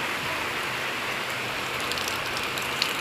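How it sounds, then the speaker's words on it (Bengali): Heavy rain pouring down during a flood season, a dense, steady wash of falling water with no breaks, close and fairly loud. "দেখতে পাচ্ছেন কত বৃষ্টি হচ্ছে।"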